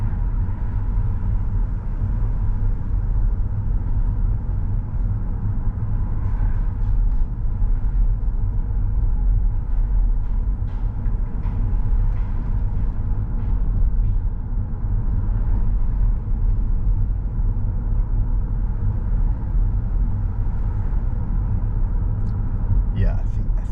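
A car climbs through Laurel Canyon with a steady, low engine and road rumble running the whole way, with faint scattered clicks over the continuous drone.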